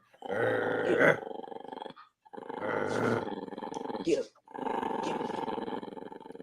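A dog growls and snarls in three long, rough bursts separated by short pauses, loud and close, with a voice speaking briefly among them.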